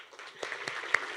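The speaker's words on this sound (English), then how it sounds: "Round of applause" A brief stretch of crowd clapping at a college senior awards banquet, a dense run of hand claps with a few sharper accents.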